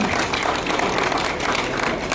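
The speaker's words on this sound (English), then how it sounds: "Isabella Chemurgor, a clap for her." A crowd at a half marathon event in Homa Bay County gives a steady burst of clapping, dense and even throughout.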